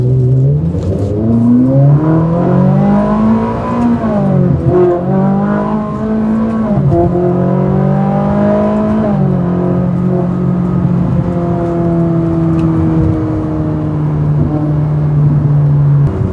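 A Ferrari 458 Italia sports car engine heard from inside while driving: a loud, close, continuous drone that rises and falls through several gear changes, climbing in pitch, dipping briefly, then settling into a steady cruise.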